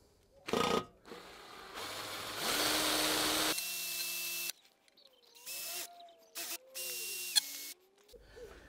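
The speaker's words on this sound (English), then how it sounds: "Use some small drills and chain drill it" A power drill with small bits chain-drills through an ABS wheel speed sensor. The drill whines in loud bursts of several seconds that start and stop, with its pitch rising and falling between runs.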